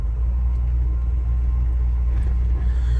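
A 1984 Chevy C10 pickup rolls slowly into a driveway, its engine giving a steady, close low rumble with no clear revving and no talk.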